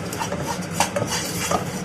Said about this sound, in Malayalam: ഈ പൊടിയുടെ പച്ചമണം പോകുന്നത് വരെ ഇതൊന്ന് ഫ്രൈ ആവട്ടെ ചെറുതായിട്ട്